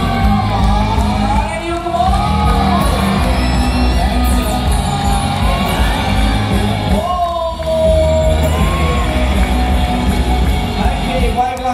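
Crowd at a dolphin show at Dufan Ancol cheering, whooping and clapping loudly and continuously, with shouts and a host's amplified voice mixed into the roar.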